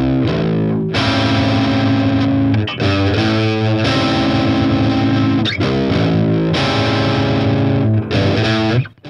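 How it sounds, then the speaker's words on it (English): A low-tuned baritone guitar played through a BOSS DS-1 distortion pedal, chugging thick, saturated chords and riffs continuously at high volume, up close and with no voices. "But really, we want to hear it with a much lower guitar."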